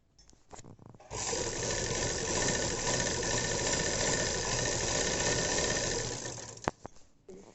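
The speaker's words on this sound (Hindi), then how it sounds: "अब इसके ऊपर से हम एक सिलाई लगा देंगे यहाँ पर।" Sewing machine stitching a sleeve of a box pleated dress, one steady continuous whirring run lasting several seconds, close and alone, starting and stopping abruptly.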